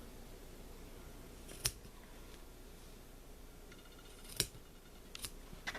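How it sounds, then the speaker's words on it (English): Scissors snip the corners off a fabric coaster in about four short, crisp cuts, spaced unevenly against a quiet room background. "I'm going to clip off the corners so that they stand upright"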